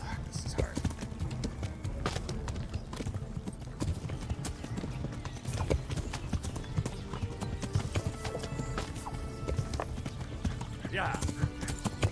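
A horse's hooves clip-clop in fast, rapid beats in a video game knight fight, with the odd snort or whinny. The sound runs steadily throughout, with a voice talking over it.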